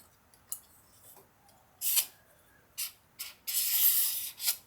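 A bobbin is twisted free and pulled off a Daedalus Starling V3FP electric spinning wheel, producing quiet plastic clicks followed by sharper ratcheting scrapes and a longer rasping slide, all close up in a quiet room.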